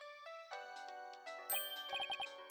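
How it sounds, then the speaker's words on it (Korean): A phone rings in the Ace Attorney video game as a bright, tinkling electronic melody with layered chime tones, ending in a run of short, evenly spaced ringing pulses, loud and alone. "전화 오네?"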